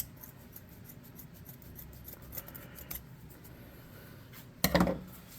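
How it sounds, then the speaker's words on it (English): Scissors cut a piece of fabric from a t-shirt: faint rustling, a couple of light snips, then one louder, crunchy cut near the end. "I'm going to cut off a piece of this t-shirt."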